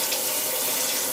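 Water pours steadily into a cooking pot, measured out as two cups for rice. It makes an even, close hiss and splash that lasts the whole moment, with no talk over it.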